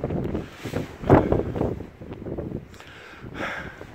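Strong wind buffeting the microphone on the summit of Crookrise Crag, loud roaring gusts that surge and fade over a few seconds with no talking.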